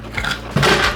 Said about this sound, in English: when I was doing the dishes